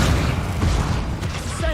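A fire spell blast cast in Hogwarts Legacy erupts as a dense, steady roar of booming, crackling game combat noise that fills the whole stretch at a loud, even level.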